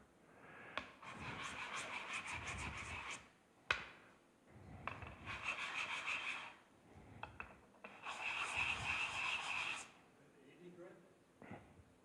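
Hand filing burrs off the edges of a clamped metal piece: bursts of steady rasping strokes, close and fairly loud, in three long runs separated by brief pauses and a few sharp knocks.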